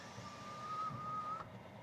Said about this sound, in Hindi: सनरूफ को हम कर देते हैं बंद